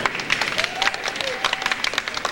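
Audience applause at an awards ceremony as recipients are named, a steady patter of many hands clapping, fairly close and moderately loud, with a voice faintly underneath.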